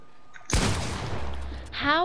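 A heavy shotgun-style blast fires in Fortnite, a sudden loud boom trailing into a long rumbling decay, followed by a brief sharp game sound at the end.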